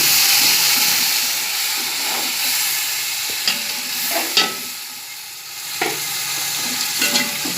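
Tomato and red chili paste frying in a pot for vegetable pulao, with a loud, steady sizzle and hiss and occasional scraping stirs of a spoon, close by and without speech.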